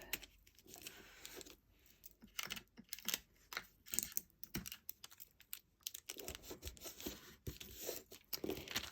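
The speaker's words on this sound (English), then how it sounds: "And again, I'll use my Scotch tape." Scotch tape is pulled from the roll and pressed down onto a handmade shaker card, producing a run of close, crisp crackles, peels and taps that come in irregular bursts throughout, with no talking.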